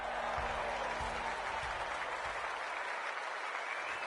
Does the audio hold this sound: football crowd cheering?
yes